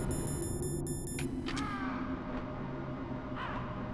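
Crows caw several times in Metal Gear Solid, their harsh calls rising out of a steady game backdrop.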